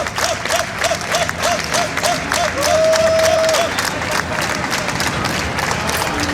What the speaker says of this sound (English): The crowd trying to will them on.